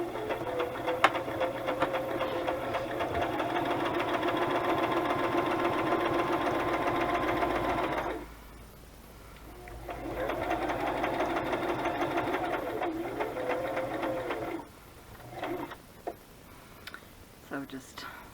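A sewing machine runs a straight stitch in long steady bursts, its fast mechanical whir and rhythmic needle ticking close by, stopping briefly between runs, with someone speaking over and between the stitching.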